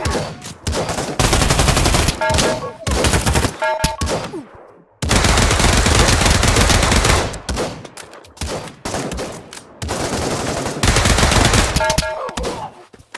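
Gunfire from a heavy-recoil gun in a Quest 2 VR video game, loud rapid bursts of automatic shots in several long volleys separated by short gaps.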